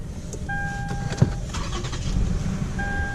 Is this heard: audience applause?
no